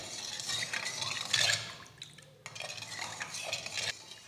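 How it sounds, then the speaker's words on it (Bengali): A spoon clinks and scrapes against a bowl while salt is stirred into water for a steamed rice cake batter. The stirring is close and moderately quiet, with one brief pause before it resumes. "লবণ আমি জলের সঙ্গে গুলে নেব ভালোভাবে।"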